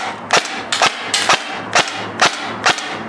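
Helios Umbrella Corporation M4 SBR airsoft gun firing while double feeding, six sharp, close snaps spaced roughly half a second apart.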